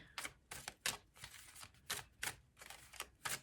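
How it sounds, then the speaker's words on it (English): Quiet, papery shuffling of a thick tarot deck in quick bursts of snapping and rustling, repeating at an uneven rhythm up close. "This deck is just so nice to shuffle."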